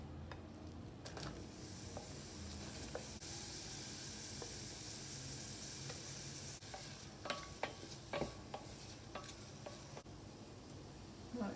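Onion frying in melted butter in a pan, a steady close sizzle running throughout with a few scattered utensil scrapes and taps toward the end.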